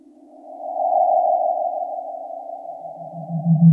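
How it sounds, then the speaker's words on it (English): An audio feedback loop built from a send on a mixing channel swells in as a sustained, sonar-like tone, rising from quiet to steady and loud, with a lower hum emerging toward the end. "slowly bring up our send to bring in the feedback"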